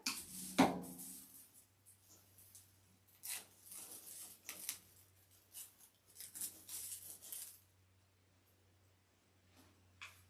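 Scissors snipping material for an Easter cross wreath, several close, soft cutting strokes in short bursts after a sharp initial clunk, over a low steady hum.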